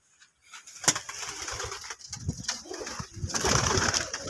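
Pigeons coo inside a coop built for a nesting pair, the soft calls close and continuous under scattered sharp clicks and knocks.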